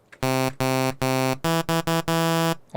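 A bright, buzzy synthesizer tone pulses on and off in uneven bursts, its volume swelling and dropping repeatedly, with no voices.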